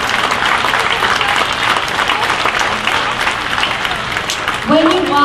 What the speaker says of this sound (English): I think we should clap again for them